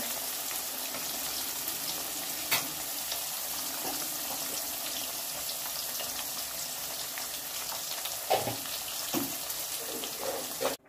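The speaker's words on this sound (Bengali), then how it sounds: "ওই তেলে আলুগুলো ভেজে নেব, একটু হলুদ দেবো, একটু নুন দিয়ে আলুগুলো ভেজে নেব।" Potatoes fry in oil with turmeric and salt in a pan, a steady close hiss of sizzling broken by a few sharper crackles and clinks toward the end.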